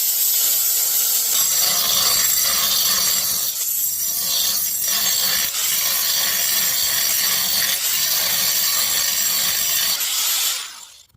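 A saw grinds steadily through stone for several seconds, a harsh continuous rasp that stops abruptly at the end.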